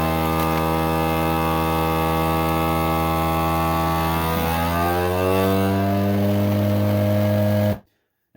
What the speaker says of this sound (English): get it vacuum sealed.